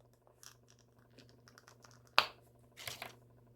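An action figure's head pops off its ball-joint neck peg with a single sharp plastic snap, preceded by faint scratchy fiddling and followed by a short rustle, all quiet and close.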